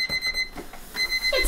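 A kitchen timer buzzer goes off in a home kitchen while a casserole bakes, a steady electronic tone sounding in bursts over low room noise.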